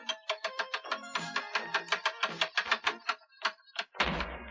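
A castle drawbridge in an animated adventure lowers with a rapid chain of rhythmic mechanical clanks, then lands with a heavy, booming thud.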